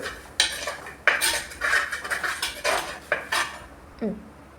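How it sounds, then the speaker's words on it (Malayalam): Metal utensil scraping and clinking against a pan as pearl spot fish curry masala is stirred, a run of loud, irregular scrapes and knocks close by with no talking. "ഇളക്കി കൊടുത്ത് മസാല നോക്കുന്ന സമയത്ത്"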